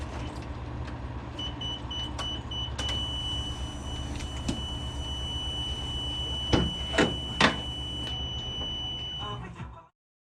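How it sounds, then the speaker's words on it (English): Electric window motor in a Nissan Figaro door, driven to push the window track upward, whirring steadily and close with a few sharp squeaks and knocks near the end. "I use the window motor to push the track upward"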